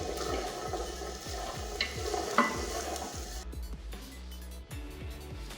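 Diced carrots and onion fry gently over low heat in a pan, giving a steady close sizzle with soft stirring scrapes and no talk.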